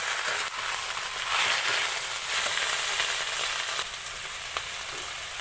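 Kharkon leaves fry in a pan over garlic and black cumin, giving a loud, dense, crackling sizzle that holds steady and close throughout with no talking.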